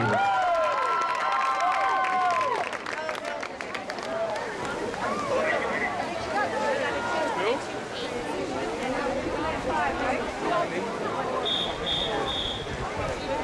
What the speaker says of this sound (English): Round of applause for your ladies in the championship final